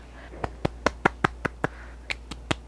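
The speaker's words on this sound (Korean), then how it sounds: "박수." A run of about ten sharp hand claps in an even rhythm, close and crisp over a low steady hum, recorded on a BOYA BY-WM8 Pro K2 wireless microphone.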